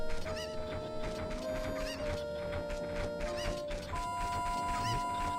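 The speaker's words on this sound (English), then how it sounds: "The chicken on a ledge." A chicken clucking in the video game Zelda: Ocarina of Time, with faint repeated clucks over a steady tonal game background.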